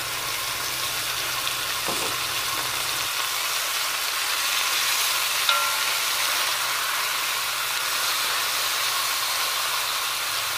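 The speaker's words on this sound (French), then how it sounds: "Je vais venir ajouter mon oignon." Onion added to browned veal pieces frying in a pan for a Moroccan prune tajine, giving a steady, even hiss of frying that holds throughout, with a faint clink partway; no voices.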